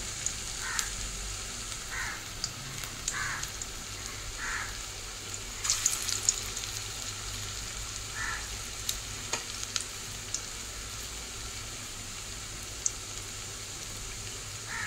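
Kathal chingri kopta, jackfruit and prawn balls, fry in oil for a curry, a soft, fairly faint steady sizzle with a series of light regular clicks and taps and a brief louder clatter midway, with no voices.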